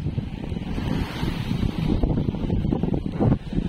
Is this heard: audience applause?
no